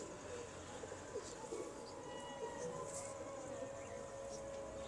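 Teddy pigeons coo softly in the background beneath a steady high-pitched tone and faint ambient noise, with low, murmuring calls recurring throughout.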